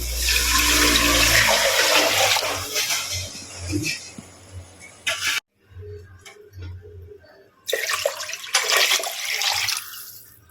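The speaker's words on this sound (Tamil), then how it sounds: "அதுக்கு 13 டம்ளர் தண்ணி ஊற்றிக்கிறேன்." Loud gushing water pours in bursts into a pressure cooker of rice, broken by a short silence and clattering, then another strong pour before it trails off.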